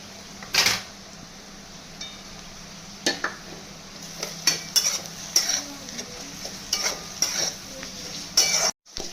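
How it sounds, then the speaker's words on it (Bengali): Chopped onion and crushed garlic fry in an oil-filled pan for a country chicken curry, with a steady soft sizzle under repeated scraping and clinking spatula strokes against the pan, close and uneven, with no talking. "পেঁয়াজের সঙ্গে রসুনটাকেও ভেজে নেবো ভালো করে লাল লাল করে।"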